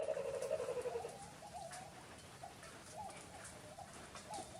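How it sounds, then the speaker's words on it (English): A kookaburra calls faintly in the distance, its cackling bursts loudest at the start and fading into a damp outdoor backdrop after a heavy rain shower. "That's a kookaburra calling in the background."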